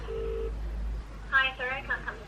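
A phone call being placed: after a low steady tone, a few short dialing or ringing beeps repeat in quick bursts, close and moderately loud, without speech over them.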